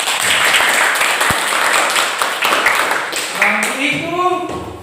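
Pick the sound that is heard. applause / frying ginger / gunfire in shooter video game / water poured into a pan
applause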